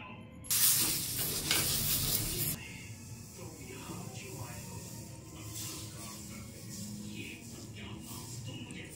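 Coconut-filled pitha fry one by one in a pan, producing a loud burst of sizzling at the start that settles into a softer, steady crackle.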